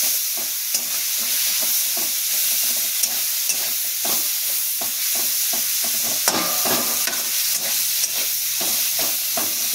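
Tomato, potato and cauliflower fry steadily in a pan after panch phoron, a continuous close sizzle broken by frequent scraping stirs with no voices.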